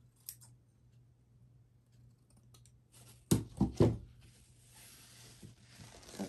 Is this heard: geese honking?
no